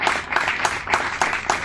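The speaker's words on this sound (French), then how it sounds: "Sous vos applaudissements" Studio audience clapping at the close of a televised public affairs program, brisk rhythmic applause with pulsing peaks, fairly close.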